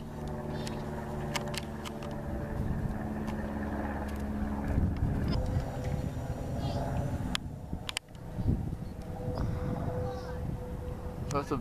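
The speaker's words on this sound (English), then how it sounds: "That's a big plane." A big non-commercial plane flies low over a house in the South Bay area of Southern California, heard as a continuous broad rumble under heavy wind noise while someone talks.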